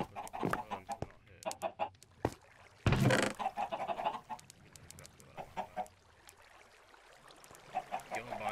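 A chicken in a video game clucks in quick, repeated bursts, with a louder burst about a third of the way in and other in-game noises around it.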